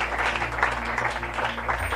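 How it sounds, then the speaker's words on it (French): A congregation at a Sunday thanksgiving church service breaks into steady, dense applause that fills the room for the whole two seconds, with a low tonal hum running underneath. "Une acclamation pour eux."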